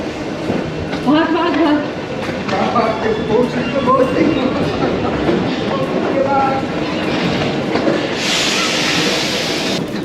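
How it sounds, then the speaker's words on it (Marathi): A metro train rolls into a station in Paris with a loud, continuous rumble and rattle, a hiss of air brakes near the end, and people talking over it. "तर आमचे मेट्रो आले"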